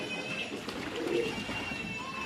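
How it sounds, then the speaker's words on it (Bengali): Pigeons eating brick dust, with soft cooing under a steady outdoor background. "এই যে কিছু পায়রা সুরকি খাচ্ছে"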